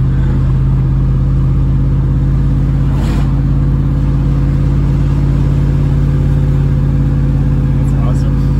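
Lexus GX470 on 35-inch tires, towing uphill at full throttle, its engine holding a loud, steady low drone throughout with no break in the effort.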